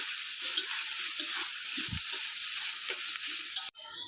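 Sliced onions sizzle steadily in hot oil in a pan as they fry into crisp birista for biryani, with a few soft stirring knocks before the sound cuts off abruptly.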